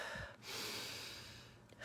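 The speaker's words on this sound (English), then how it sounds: "is called alpha breathing, and it is breathing in the nose and then exhaling out of the mouth" A person doing alpha breathing draws air in through the nose and pushes it out through the mouth, a close, breathy rush and release with a brief pause between, no talk.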